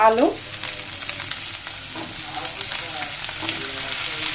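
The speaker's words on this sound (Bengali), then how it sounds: "আলুটাকেও আমি সুন্দর করে ভেজে নিব" Potatoes fry in a pan of oil with garlic and onion for a spinach dish, a steady broadband sizzle running close and continuous with light stirring scrapes throughout.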